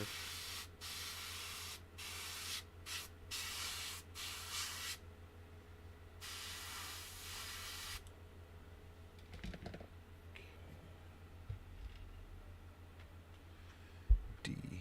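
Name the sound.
airbrush being cleaned out between paint colors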